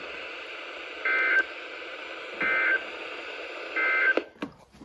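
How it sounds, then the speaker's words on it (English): NOAA weather radio test alert tones from a broadcast: three steady electronic tone bursts, each about a third of a second long, spaced evenly over a hissy radio background, then a few clicks as the signal ends. "This has been a test of the NOAA weather radio warning device."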